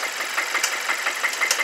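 A Kia Sorento 2.4 engine with an over-advanced exhaust cam timing fault runs steadily up close, a rhythmic ticking knock repeating over a constant mechanical hum.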